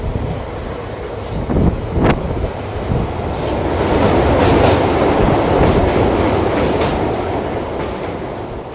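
A smoky EMD diesel locomotive hauls an intercity express across the Jaldhaka river through Dooars forest, with a loud, steady rumbling roll, rhythmic wheel clatter and a swelling middle stretch, close and without voices.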